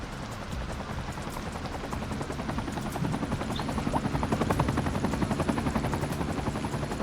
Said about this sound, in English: Where the heck is this helicopter that is so loud?